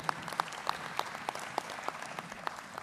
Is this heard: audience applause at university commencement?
yes